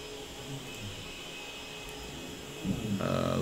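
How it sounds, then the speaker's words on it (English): A vacuum cleaner hums steadily from another room, a faint constant whir in the background that grows a little louder near the end. "Sorry if you can hear my roommate vacuuming in the background."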